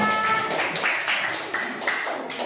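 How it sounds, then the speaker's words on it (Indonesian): Classroom applause for group 2: scattered hand claps from students, close and moderate, with a brief tonal voice at the start and uneven, loosely rhythmic beats that follow. "Ya, tepuk tangan dulu dong untuk kelompok 2."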